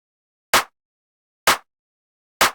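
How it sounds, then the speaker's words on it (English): Three sharp, bright clap drum sample hits evenly spaced about a second apart, each short and snappy with silence between them. "So here we have a clap that sounds like this."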